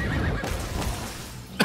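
A horse in the video game Lost Ark gives a short, sharp neigh at the very end, after a second or so of soft rustling, hoof-like background noise; no one speaks.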